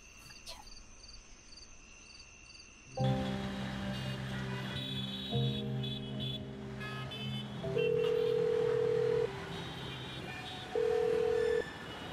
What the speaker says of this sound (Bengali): আমি আপারে ফোন দিয়ে আপার সাথে কথা কই